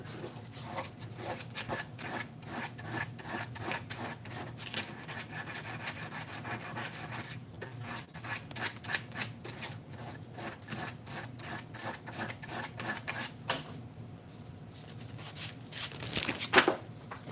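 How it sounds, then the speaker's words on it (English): Repeated rhythmic rasping strokes of sandpaper on a small wooden puzzle piece, steady and close throughout, easing briefly near the end. "Needs to be sanded more."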